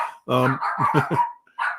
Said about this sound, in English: My dogs are so upset with what I'm saying now.